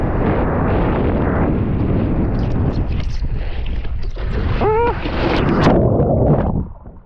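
Gusty wind roars into the microphone while kitefoiling on open water, with a steady loud buffeting rush that drops away at the end; water and spray noise mix beneath it.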